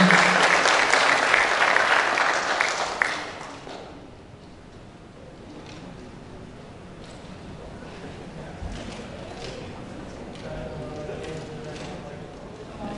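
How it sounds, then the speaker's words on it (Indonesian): Audience at a Pemuda Muhammadiyah leadership inauguration ceremony in Bogor bursts into loud applause for about three seconds, then it cuts off sharply and a quieter hall follows with faint voices and shuffling. "Silakan tepuk tangan."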